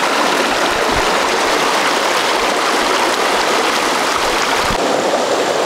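A mountain stream rushes and splashes steadily, a dense, loud broadband flow of water heard up close without interruption, with a couple of soft low thumps.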